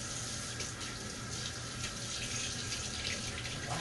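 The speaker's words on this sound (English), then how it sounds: "let me rinse off my hands." Tap water running steadily into a sink as hands are rinsed in a kitchen while cooking spicy stuffed chicken breast, a constant close splashing rush with no talk.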